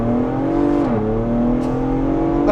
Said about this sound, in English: changing it to sport mode does change the exhaust note just a little bit too